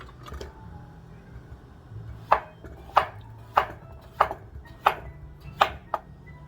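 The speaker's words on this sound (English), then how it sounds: "And then just keep slicing and adding to the pan." Raw potatoes being sliced about an eighth of an inch thick for an Egyptian potato casserole: a steady run of sharp knife chops on a board, evenly spaced, close and fairly loud, with no talking.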